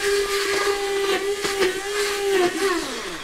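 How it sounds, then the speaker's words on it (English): An electric blender churns Tibetan butter tea made from black tea and butter, giving a steady close whine with a whistling pitch that sags and falls near the end, over a constant hiss. "high-tech Tibetans have this electric blender"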